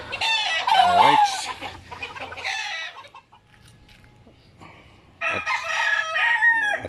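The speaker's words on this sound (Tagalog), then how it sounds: "katatapos lang magpakain tayo ng ating mga alagang manok" Pet chickens in a backyard just after being fed: a close, loud rooster crow opens, clucking follows, a brief quiet lull, then another burst of crowing and cackling.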